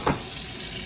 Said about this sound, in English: Rinse it until the water is clear.